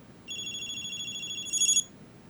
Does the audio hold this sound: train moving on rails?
no